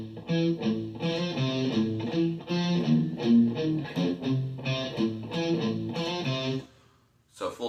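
Distorted electric guitar plays a riff at a slow tempo, a steady run of picked and sliding notes that stops near the end, then a brief burst resumes.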